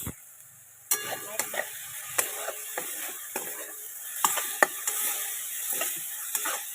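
Masala roasting in a pan for puri bhaji, a faint background sizzle broken by repeated sharp scraping and tapping strokes of a spoon against the pan, uneven and close.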